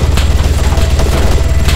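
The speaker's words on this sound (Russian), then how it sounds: "Перестрелка тут идет, блин, под... стреляют по вертолету." Gunfire aimed at a helicopter in the video game ARMA 3 rattles in rapid, dense bursts over a constant low rotor rumble, loud and close throughout.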